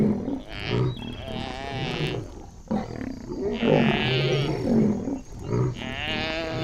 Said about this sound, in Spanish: Los leones irrumpieron como un torbellino dorado.